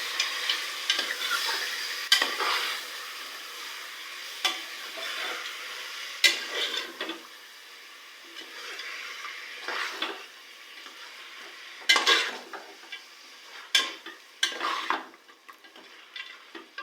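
Mutton being stirred with fried onions in a pan, giving scraping spoon-on-metal strokes and soft sizzling in irregular bursts, close and fairly clear with no talk.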